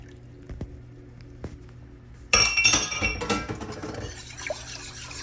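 Milk pouring into a pan of sauce, a sudden splashing liquid stream that starts loud and tapers off over a couple of seconds, with a few light clinks beforehand.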